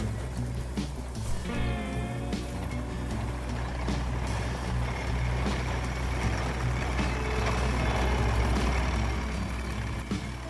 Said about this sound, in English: This tractor could be useful.